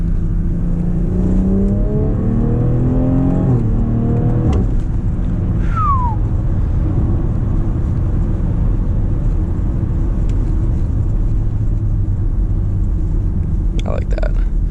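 A 2020 BMW X3 M40i SUV engine rumbles and climbs through the gears from the cabin, with steady pitch rises and shifts over a constant road drone, loud and close.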